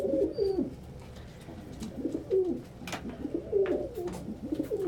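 Pigeons coo close by in a steady series of soft, rolling calls, with faint clicks and rustles in the background and no voices.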